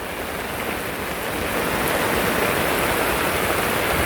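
Heavy rain pouring steadily in Montalban, Rizal, beside a flooded river, a dense, loud, unbroken hiss of water that swells slightly partway through, with no voices.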